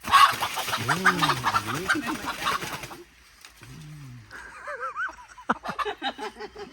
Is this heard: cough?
no